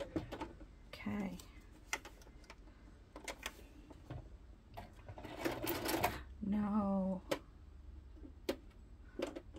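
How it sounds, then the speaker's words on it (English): A home sewing machine stitching in short whirring bursts with clicks and taps between, fairly quiet, with brief talk nearby. "I'm going to sew this real quick. So you're going to hear that."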